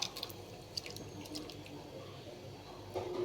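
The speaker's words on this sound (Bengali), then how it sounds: "এবার এই জল সমেত এই পনিরটার মধ্যে ঢেলে দেবো আমি আস্তে আস্তে" Soaked paneer poured slowly along with its water into a shahi paneer gravy, a faint continuous watery trickle with a few drips and light clinks, fairly quiet throughout.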